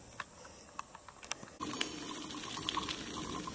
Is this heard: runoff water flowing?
yes